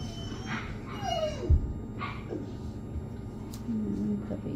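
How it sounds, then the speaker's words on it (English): Puppies whimper and yip in thin, rising and falling cries, with a soft thump among them, while a person speaks nearby. "Puppies are up there going crazy."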